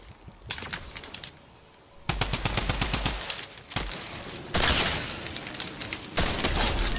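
Rapid bursts of automatic gunfire from the video game Fortnite come in several separated volleys with short pauses between them, loud and close, with no talking over them.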